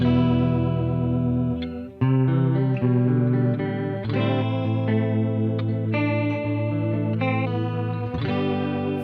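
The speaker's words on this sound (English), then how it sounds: "So let me play a little bit of the clean Guitar Amp Classics. I'm going to add a vibrato there as well." Electric guitar through a clean Guitar Amp Classics amp model with vibrato, playing sustained chords and melodic phrases with a wavering shimmer, loud and close with no talking.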